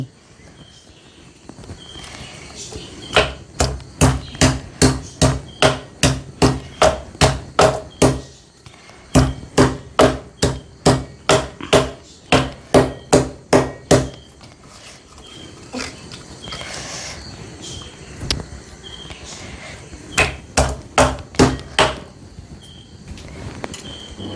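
Green mango being crushed with a pounding tool, its skin thick and tough: bursts of rapid, evenly spaced heavy thuds, close and loud, broken by short pauses.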